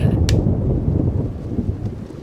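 Thunder rumbles in the video game Pharaoh, a loud, sustained low roll mixed with rain and a sharp crack near the start, with no talk over it.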